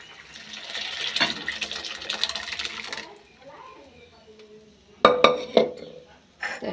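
Dal being poured into a cooking pot, a liquid splash and pour for a few seconds, followed by a pause and a few sharp clinks of a utensil against the pot.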